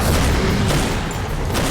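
Gunfire in a TV show scene, a dense loud burst of shots and booms filling the whole moment without any talk.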